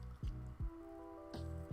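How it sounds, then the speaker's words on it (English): Someone drinks ginger ale, with three or four close, wet swallowing gulps spaced irregularly, quiet and alone. "I'm drinking ginger ale instead of water"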